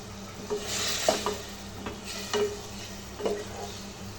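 Tilapia fish cooking in a pan with a sautéed masala base, a steady sizzle broken by several sharp scraping stirs and clinks of the spoon against the pan, close and fairly loud, no talking.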